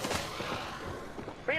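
Gunfire in a first-person shooter video game, a few quick shots close by, with a brighter burst at the end.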